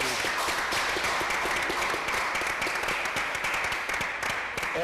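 Audience applause at an arts event honoring Canadians, a steady, dense wash of many hands clapping at moderate volume, continuous throughout with no voices standing out.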